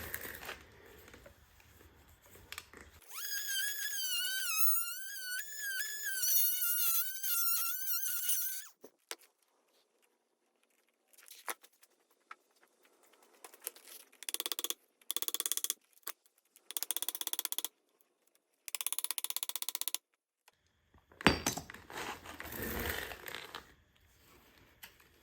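Power cutting tool grinding through old rubber tires on original 1942 57mm gun wheels, a steady loud whine with rising pitch sweeps for several seconds, then intermittent bursts of cutting separated by pauses, likely catching the metal cords inside.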